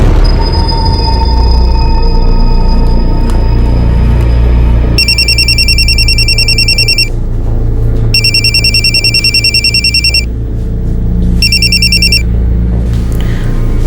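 A telephone rings in three electronic trilling bursts over a steady low engine-like hum that persists throughout.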